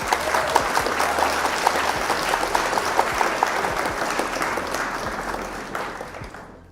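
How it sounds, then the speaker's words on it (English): Applause from a small crowd at a Flesh and Blood trading card game session, a lively burst of clapping that holds steady for several seconds and then gradually fades out. "Round of applause for you."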